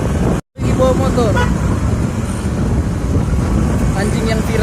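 Motorcycle ridden by a dog in street traffic, with a steady engine hum and road noise, a brief dropout early on and passing vehicles with horn toots around it.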